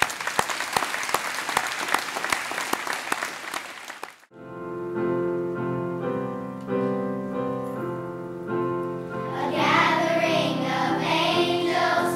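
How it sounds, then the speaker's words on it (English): Applause for school helpers at a Harbor View Elementary event in Charleston County fills the first four seconds, then cuts off and gives way to a sustained musical passage, with singing voices entering near the end. "let's give everybody who helped make it so a round of applause"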